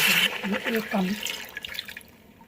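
A cup of water poured into a pan of jaggery for melting, a brief splashing gush that fades quickly into quiet, heard close up.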